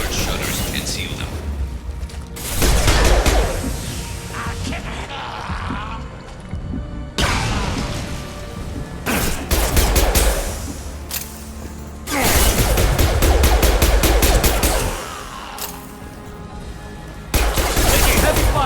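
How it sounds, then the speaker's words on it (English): Heavy gunfire in the Mass Effect 2 video game: dense bursts of rapid shots and impacts, loud and near, coming in several heavy waves across the clip with louder peaks, some game voices mixed in. "Taking heavy fire!"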